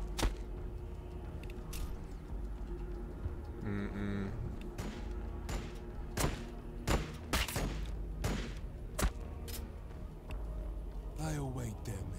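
Sharp gunshots and heavy fire-support volleys ring out across a Warhammer 40K: BattleSector battlefield, scattered cracks and bursts over a low rumbling backdrop, with voices speaking and calling out among the shots.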